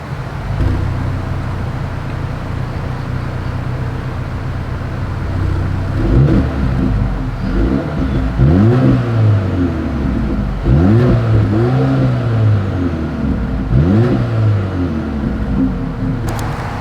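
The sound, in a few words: 2025 Mercedes-Benz GLA 250 dual exhaust revving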